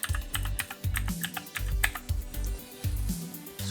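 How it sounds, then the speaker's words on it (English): Rapid keystrokes on a computer keyboard while typing in editing software, a steady clatter of many close, distinct clicks with no voices. "type in Lumetri"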